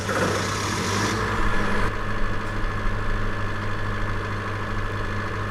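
A standby generator engine runs with a steady, loud idling rumble and mechanical vibration, with a change in tone partway through as it settles into running.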